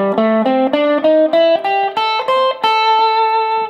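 An electric guitar with light overdrive plays a minor blues scale as a quick ascending run of about nine picked notes, the last one left ringing, close and clear with no voices.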